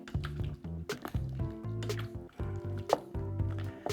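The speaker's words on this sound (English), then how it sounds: "Almost looks like cubes of chocolate you're putting into hot liquid." Beef stew mix cubes dropped into hot liquid in a pot and stirred constantly: wet squishing, sloshing and spoon knocks in an uneven rhythm, close and moderately loud, with no one speaking.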